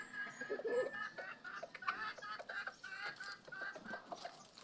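Backyard chickens, including breeder hens, cluck softly and intermittently nearby, with scattered calls at a quiet level and no talking over them.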